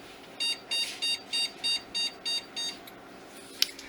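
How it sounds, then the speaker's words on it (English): A failing 2008 computer emits a string of eight evenly spaced electronic beeps while stuck restarting, moderately loud and close, followed by a brief click after a pause. "It makes this weird beeping now."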